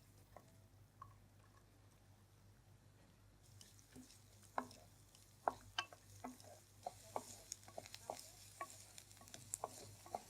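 Onions fry in oil with garlic for a marunthu kuzhambu, with a soft steady sizzle under a run of light scraping stirs and taps that grow busier toward the end, all faint and without talk.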